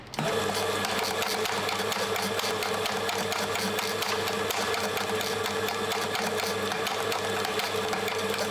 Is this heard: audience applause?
no